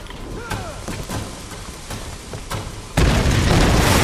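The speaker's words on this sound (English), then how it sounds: "I just hate those bombs because they're really, really hard." Bomb explosions in the 2013 Tomb Raider video game, a rumbling low boom that swells into a loud, sustained blast over the last second, with scattered pops and impacts before it.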